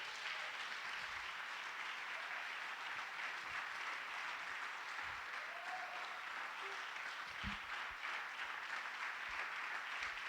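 A church congregation applauds in steady, continuous clapping that sounds somewhat distant and moderately quiet, with faint voices here and there.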